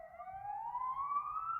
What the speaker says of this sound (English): Sirens creep in now.